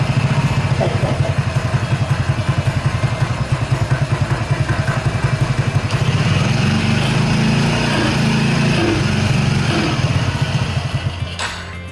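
A viewer's small gasoline engine, choked and with its throttle cable worked, runs with a loud, steady low chugging close by for nearly the whole stretch, easing off slightly at the very end.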